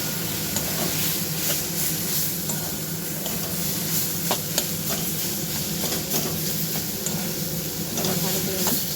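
Boiled potato being stirred into a beet-root cutlet mixture in a hot pan: continuous sizzling with repeated scraping strokes of a spatula at an even pace, fairly close, with no talk.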